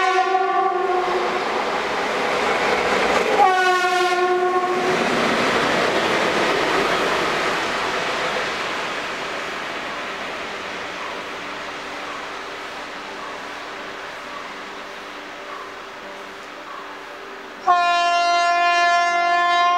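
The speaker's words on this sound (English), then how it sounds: "I had a beautiful M4 honk, and this is what I got." An Indian locomotive's M4 horn blares as a train passes, with two long tonal honks near the start, rolling wheel rumble and clatter fading between them, then a final loud honk cutting in at the end.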